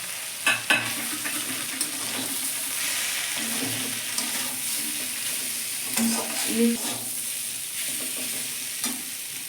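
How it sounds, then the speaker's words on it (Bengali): Hilsa fish oil and bones sizzle steadily in a kadai, a continuous frying hiss with occasional scraping and stirring knocks from a utensil against the pan. "এবার তেল কাটাগুলো দিয়ে দিলাম ভাজা ছিল দিয়ে দিল"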